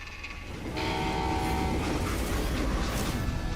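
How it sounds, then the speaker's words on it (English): A steam-era train from the Western shooter Call of Juarez: Gunslinger sounds a sustained horn over a loud, continuous rumble of rolling wheels that swells after the first second and stays heavy to the end. "how'd they stop this train in the first place?"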